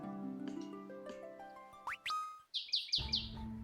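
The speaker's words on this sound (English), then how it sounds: "I have my window open and I hear birds chirping outside." Birds chirp outside an open window, a few bright high tweets near the end over steady game music tones.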